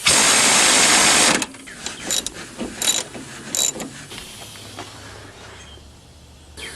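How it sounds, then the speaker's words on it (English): Bolts are tightened on the rear strut mount plate of a Chrysler Sebring: a loud burst of whirring or rattling at first, then a string of short metallic clicks and clunks from close tool work. "Now just tighten all the bolts and you're done."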